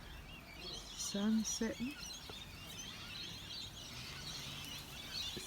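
Birds chirping in a big tree at sunset, faint and distant, scattered high calls forming a quiet background beneath a brief spoken remark.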